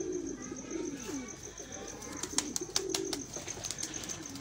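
Pet pigeons coo softly in a low, rolling murmur, kept as a hobby flock with several breeds; a few sharp clicks and light rustles rise in the second half, all fairly close and unaccompanied by talk.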